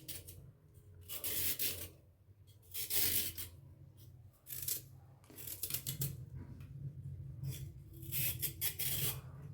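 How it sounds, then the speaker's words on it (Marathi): Peeling the skin off a large carrot gives a series of dry scraping, rasping strokes in close bursts, pausing between passes, with no talk over them. "अशा पद्धतीने आपल्याला साल काढून घ्यायची बघा."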